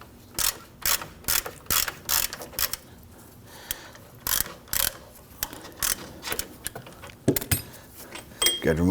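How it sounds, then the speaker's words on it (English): A ratchet turns out a suspension bolt on a 2005-2010 Chrysler 300, giving quick rhythmic clicking bursts in close, repeated strokes with short pauses, and a clank near the end. "we have our bolt spinning and it is working its way out"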